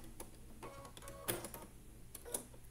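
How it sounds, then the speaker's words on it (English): A sewing machine stitches a quilt seam in quiet, faint bursts, with a soft rapid mechanical whirr and a few sharper clicks and taps between short runs. "then I'm going to sew"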